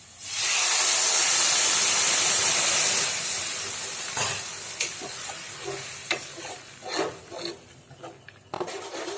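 Turmeric, red chili powder and boiled moong dal sizzle loudly in a hot pan, the strong hiss fading gradually as they are stirred, with scraping strokes of the spoon against the pan.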